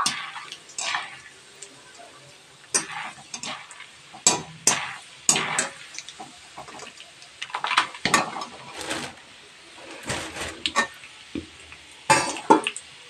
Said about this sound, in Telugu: అటుకులు కూడా వేయించుకుందాం.